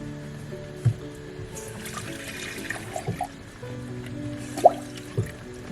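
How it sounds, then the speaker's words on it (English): Water is poured into a pot of beef stroganoff, with a soft trickling fill and scattered drips, plus a couple of light knocks against the pot, all fairly quiet. "I'll just go ahead and put a whole nother cup in here."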